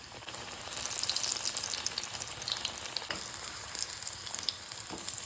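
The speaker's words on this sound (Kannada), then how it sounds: "ಎಣ್ಣೆ ಹಾಕುವ, ಎಷ್ಟು ಬೇಕೋ ಅಷ್ಟು ಎಣ್ಣೆ ಹಾಕುವ. ಒಂದೊಂದೇ ಟಿಕ್ಕಿನ ಹೀಗೆ ಮೆಲ್ಲ ಬಿಡುವ" Sweet corn tikki patties fry in oil in a pan, a steady bright sizzle with crackling pops, fairly loud and close throughout with no talk.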